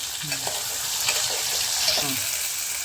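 Ingredients for a Brahmin-style sambar, tomatoes among them, sautéing in a pan, giving a continuous bright sizzle with a few faint stirring scrapes, close and steady, no one speaking over it.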